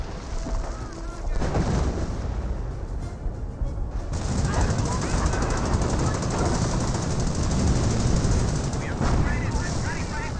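Dense artillery barrage in a WWII strategy game, with rumbling explosions and rapid gunfire piling up continuously, while a commentator talks excitedly over the battle throughout.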